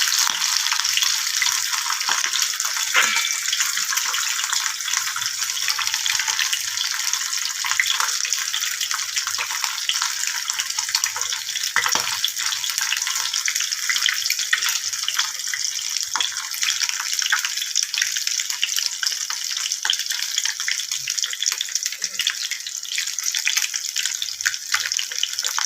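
Fish fries in a wok for a Mughlai paratha, with a steady, dense sizzle and scattered small pops that carry on evenly for the whole stretch, with no talk.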